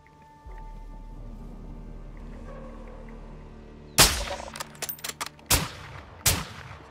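Sniper rifle fire in Call of Duty Modern Warfare 2, one sharp loud crack followed by smaller impact snaps and two more heavy shots over a low rumbling game ambience, with no voices.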